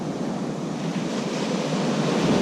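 Ocean surf breaks and washes continuously on a Florida beach at New Smyrna, a loud, steady roar of choppy waves with wind buffeting the microphone.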